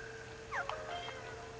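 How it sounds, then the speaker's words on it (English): Cat meowing inside the Kingdom Hearts 2 game, two or three short rising mews in quick succession over a steady low game hum and music drone. "Cat."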